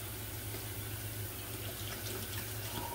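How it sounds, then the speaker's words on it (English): Tap water runs steadily from a kitchen faucet into a sink during food prep, a continuous close rushing hiss with no talking. "I'm afraid to turn off the water. I'll turn it off."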